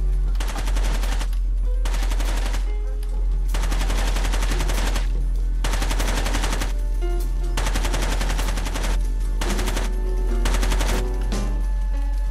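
Automatic weapon fire in Rainbow Six 3: Raven Shield, loud repeated bursts of rapid shots separated by short pauses, continuing throughout without talk.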